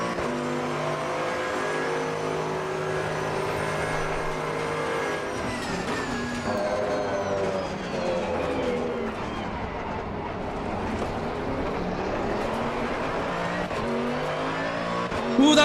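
Porsche GT2 race car engine roaring continuously in the Assetto Corsa Competizione racing game, loud and close with shifting revs and possible tire squeal, no talk over it.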